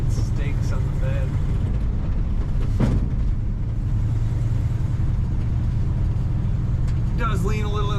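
A 1962 Ford F100 Custom Cab pickup with wood side stakes on the bed accelerates on the road, its engine a steady low drone under continuous talking from inside.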